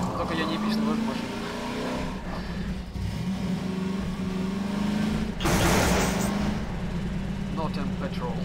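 A car drives in a video game, its engine a steady mid-pitched drone throughout, with a brief louder, harsher surge partway through.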